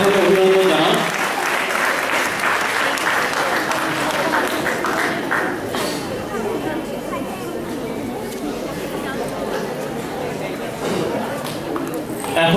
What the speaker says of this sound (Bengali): সবাই একটু করতালির মাধ্যমে অভিনন্দন জানান।